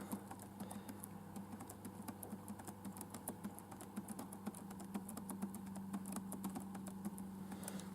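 Typing on a computer keyboard, entering text character by character: a quiet, rapid, irregular run of key clicks over a low steady hum, continuing throughout.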